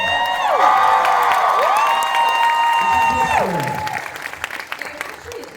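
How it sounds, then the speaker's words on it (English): A sold-out cinema audience at a movie Q&A cheers and applauds loudly, with whoops and shouts rising over the clapping before it thins out. "So I'm glad you're cheering."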